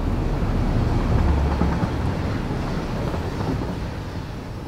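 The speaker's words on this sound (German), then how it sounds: "Da kommt schon der nächste Zug." A train in the factory-building video game Satisfactory rumbles past on the tracks, a steady, dense roar that stays fairly even and slowly fades.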